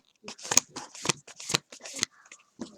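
Tarot cards are shuffled and drawn at close range, quick riffling and slapping bursts of card stock in an irregular rhythm, with a voice speaking alongside.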